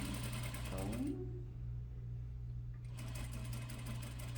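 Sewing machine stitching an inseam pocket seam runs steadily at close range for about a second, stops briefly, then starts again and keeps whirring, with a constant low hum throughout.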